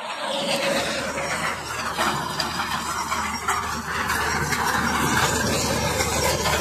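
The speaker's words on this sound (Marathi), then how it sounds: "महिंद्रा 45 HP ट्रॅक्टर चालत आहे।" A Mahindra 45 HP tractor runs a maize thresher, producing a loud, continuous mechanical roar with a grinding, rattling texture and a high squealing whine throughout.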